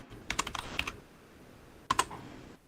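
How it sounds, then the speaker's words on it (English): Bursts of typing on a computer keyboard: a quick run of clicking keystrokes, a pause, then another short flurry, fairly close and clear with no talking. "Lena, are you typing?"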